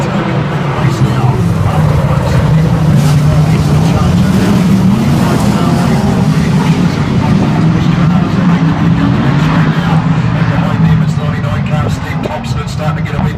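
Sprint cars roaring around a dirt track at Woodford Glen under the green flag, a dense, constant engine drone at full volume, with a commentator talking over it.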